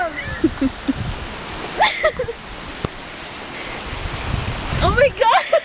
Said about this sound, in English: Ah, these are really big raindrops.